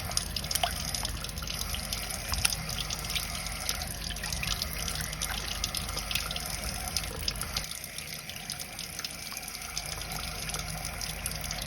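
Sweet potatoes are washed under a running tap, with a steady stream of water splashing and trickling close by at a fairly low level. No voices are heard.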